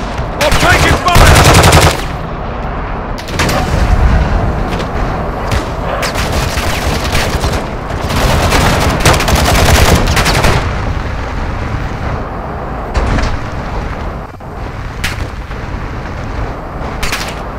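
Heavy automatic gunfire in Call of Duty DMZ, loud sustained bursts and rapid volleys with explosive booms, nearly continuous across the span, with brief squad callouts mixed in.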